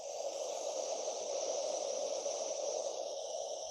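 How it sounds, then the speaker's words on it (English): A noise generator plays red-pink noise as a steady, unbroken hiss with a strong, full lower rumble, even in level throughout and heard alone. "it's a red-pink noise,"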